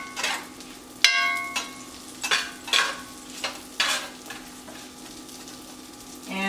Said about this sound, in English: going to add about 2 tablespoons of grass-fed butter. Melting it all up.